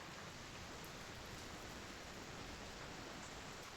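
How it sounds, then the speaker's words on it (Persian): Gentle rain falls in a steady, soft, even hiss that holds without a break and with no distinct drops or other sounds. "صدای لطیف نوازش کننده بارانت را میشنوم"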